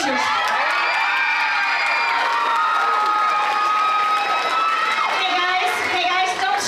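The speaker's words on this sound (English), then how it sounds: "don't scream. Cheering, but screaming is painful." An audience at a school dance troupe show cheers and screams, a loud sustained wall of high-pitched shrieks, whoops and applause that carries on steadily throughout.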